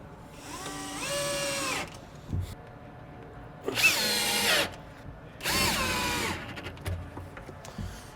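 A power drill drives screws into a kitchen cabinet drawer front, sounding in three loud whirring bursts of a second or two each with short pauses between.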